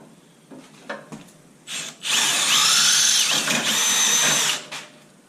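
Power tool driving a bolt into a winch mount on a zero turn mower, a few light clicks and handling knocks followed by a loud, close, sustained whirring burst lasting about two and a half seconds before stopping.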